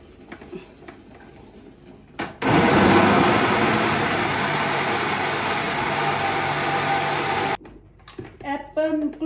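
Small kitchen blender running for about five seconds on a fruit smoothie of apple, banana, grapes, blueberries, kale and milk, a loud steady motor whine that starts and stops abruptly, with someone talking before and after.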